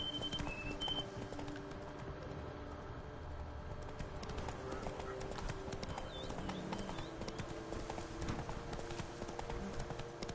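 Roach, a horse in The Witcher 3 game, gallops along with steady, close hoofbeats. The rhythm runs continuously under a dense background of ambient game sound, with a few bird chirps.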